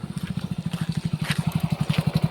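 A motorcycle engine putters close by with a fast, steady, even thumping that holds through the clip, with no voices.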